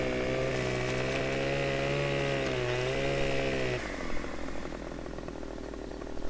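Chainsaw felling a tree in Farming Simulator 15, a loud steady high-revving engine whine that holds for several seconds, then cuts to a lower rumbling idle with some clatter.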